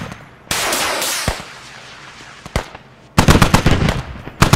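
Artillery and gunfire in the video game Squad: a loud sustained blast followed by a sharp report, then a rapid burst of close, heavy firing.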